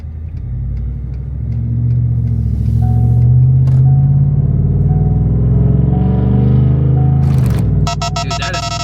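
A loud, raw car exhaust with the muffler removed, on a Coyote engine, rumbles and swells as it revs to about 3,000 RPM, a deep throaty roar close by, ending in a sharp rattling burst.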